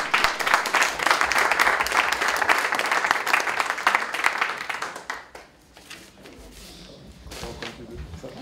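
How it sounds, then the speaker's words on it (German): Loud, dense applause from a large audience fills the first five seconds, then fades into scattered claps and quieter room noise. "einen ganz herzlichen Applaus und Empfang für die beiden Gäste"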